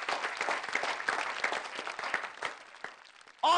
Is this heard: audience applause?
yes